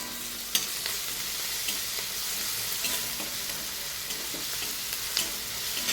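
Finely chopped chilli goes into a hot pan of reddened onion, giving a loud, continuous frying sizzle with a few sharp clicks of stirring scattered through it and no talking.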